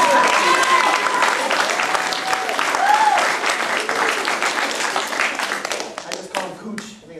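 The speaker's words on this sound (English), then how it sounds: "Let's give it a round of applause." Sustained applause fills a family martial arts center during a belt ceremony, steady clapping from the audience lasting several seconds under cheering and a voice, tapering off at the end.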